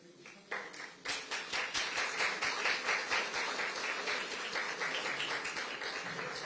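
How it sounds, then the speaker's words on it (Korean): An audience at a People Power Party merger ceremony in Korea welcomes lawmaker Cho Jung-hoon. Dense clapping swells quickly and holds steady and loud for several seconds, with no voices over it. "국민의힘과 함께하기로 약속해 주신 조정훈 의원님께 다시 한번 큰 박수 부탁드립니다"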